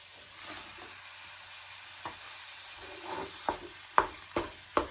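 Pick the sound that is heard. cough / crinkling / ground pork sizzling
ground pork sizzling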